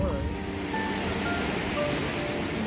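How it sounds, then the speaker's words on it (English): A river flowing beside the Appalachian Trail, heard as a steady close rush of water noise throughout, with possible faint voices underneath. "Let's watch the river."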